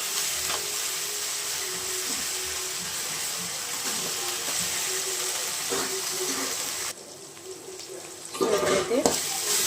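Ginger garlic paste sizzles and fries steadily in a pan for a Rayalaseema potato curry, a continuous bright crackle with occasional stirring scrapes and a brief louder burst near the end.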